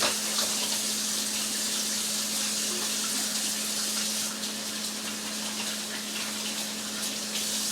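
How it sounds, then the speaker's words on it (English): Kitchen tap water runs steadily while hands are washed after handling raw pork, a constant loud gushing hiss with a low steady hum underneath and slight shifts in the flow. "right now I'm going to wash my hands after handling that meat"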